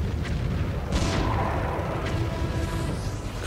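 A cannon tower fires in the tower-defense game Defense Grid: The Awakening, several dull booming blasts at irregular intervals over a continuous low rumble of battle, no talk.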